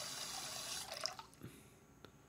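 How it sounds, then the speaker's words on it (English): Hot, steaming water runs from a bathroom tap in the horror game Mirror Mirror, a soft, close hiss of flowing water that tapers off with a few faint drips and clinks, no talking. "That's hot water, dude. That's steaming."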